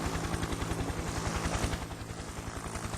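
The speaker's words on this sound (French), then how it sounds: "On survole la campagne en hélicoptère" A helicopter flies over countryside, its rotor thumping in a fast steady rhythm under a loud engine whine, close and continuous, with no talking.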